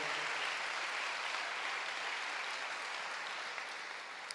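Church congregation applauding during a service, a broad, sustained wash of clapping at moderate distance that fades slightly toward the end.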